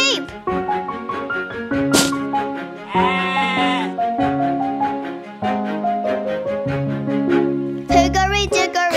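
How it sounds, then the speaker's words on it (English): Sheep bleating in a children's nursery rhyme song: a wavering baa rises over a bright melodic backing of sung notes and instruments, loud and close, with a child-like voice singing along. "A sheep!"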